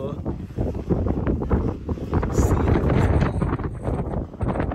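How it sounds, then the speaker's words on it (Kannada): Steady rumbling wind buffets the microphone throughout, loud and close, with a voice faintly mixed in beneath the gusts. "ಗಾಳಿ ಭಾಳ ಐತಿ."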